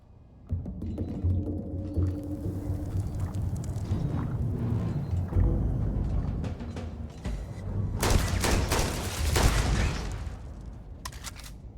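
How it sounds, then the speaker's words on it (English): In the Starfield video game, a turret fires in repeated bursts of shots, some heavy and booming and others crackling, against a busy game soundscape, with a loud flurry near the end. "That was a turret."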